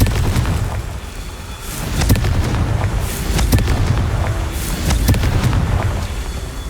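Confringo blasting spells explode repeatedly in Hogwarts Legacy, loud booming bursts with crackling sparks sounding every second or so over a dense rumbling background, with no voices.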